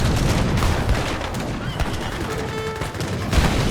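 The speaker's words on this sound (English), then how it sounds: "a mound castle has just been taken down by these artillery pieces here" Age of Empires 3 battle between samurai and cowboy armies, artillery pieces battering a mound castle: dense overlapping gunfire and booming cannon shots in a continuous clatter, with faint voices underneath.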